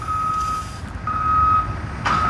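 A reversing truck's backup beeper sounds a steady, high-pitched tone in two long pulses over a low rumble of traffic, and no one speaks.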